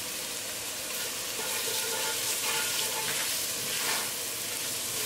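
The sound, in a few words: spices frying in oil for tadka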